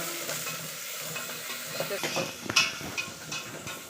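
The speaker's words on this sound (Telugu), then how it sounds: "ఒక మూడు ఎర్రగడ్డలు సన్నగా తరిగి పెట్టుకున్నాను ఇది బాగా వేగాలండి" Thinly sliced onions sizzle and crackle in a pan over a wood-fire stove while gonguura mutton biryani is being cooked, a steady close frying hiss broken by stirring clatters and a sharper scrape near the end.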